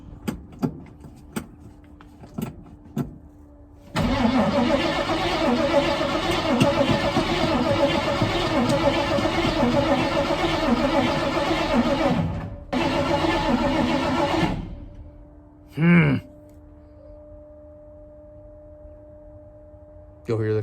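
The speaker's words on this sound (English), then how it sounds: "You'll hear the carburetor running." An old 1981 Ford engine cranks and catches, then idles steadily at close range for about ten seconds, dies briefly, restarts, and cuts off, followed by a short mechanical whine and clicks.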